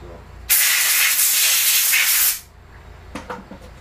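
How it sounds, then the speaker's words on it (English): A sharp, steady spray hisses onto mini lathe and milling machine parts for about two seconds, close and loud, then cuts off, followed by a few faint clicks. "Quick little spray down"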